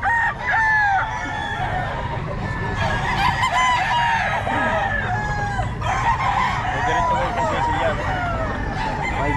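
A gold stag rooster crows repeatedly nearby, loud and raspy, with other fowl clucking and crowing around it in a busy yard.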